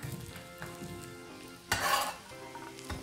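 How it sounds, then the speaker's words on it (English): Sliced zucchini sizzles in melted butter in a pan while being stirred, a steady soft frying hiss with a brief louder scrape and rush of sizzle midway, close up and without speech. "stir them around to be sure everybody gets coated with the oil"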